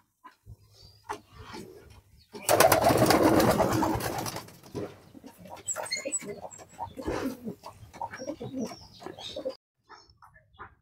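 Pigeons coo in soft, intermittent low murmurs in a quiet coop, interrupted early on by a loud burst of rushing, fluttering noise lasting a couple of seconds.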